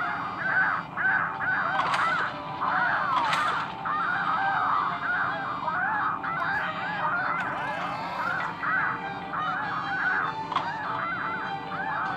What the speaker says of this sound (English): Boom, so many seagulls are flying.